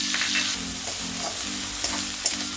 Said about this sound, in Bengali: আদা রসুন পেঁয়াজটা ভালো করে একটু ভাজা ভাজা হলে